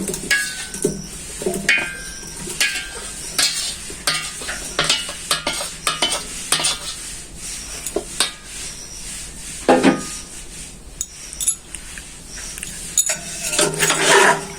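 Fried potatoes are tipped into a pressure cooker of mutton biryani, clattering and scraping against the pot over a busy sizzle. The stirring and clinking come in irregular bursts, loud and close, with no voices.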